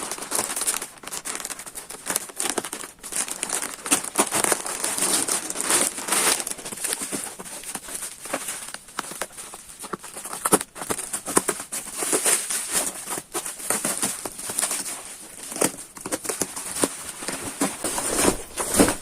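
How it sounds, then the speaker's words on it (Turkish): Parcels being opened at close range, with steady crinkling and rustling of plastic packaging and occasional tearing running continuously throughout, fairly loud and without speech. "Şimdi açalım kargolarımızı."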